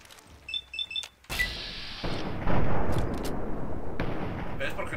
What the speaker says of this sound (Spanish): La explosión del carro, aléjate lo más que puedas.